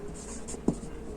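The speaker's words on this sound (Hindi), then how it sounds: "तो यहां पर लिखेंगे" A pen writes on paper while a math problem is worked out, giving a faint soft scratching with one brief tap of the pen, close and quiet, without speech.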